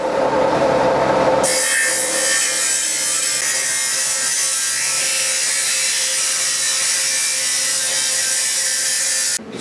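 A small fast cutter grinds through stainless steel grille mesh for a Porsche 997 Turbo, starting with a brief lower hum, then a loud, continuous, close-up high-pitched abrasive whine that holds steady for several seconds before cutting off.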